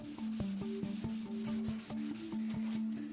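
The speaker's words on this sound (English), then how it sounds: "Sanding the grain takes it down to its original form." Sandpaper rubbing along the grain of a stripped wooden cabinet in steady back-and-forth strokes, each pass a rough scraping rasp at close range, repeated rhythmically with no talk.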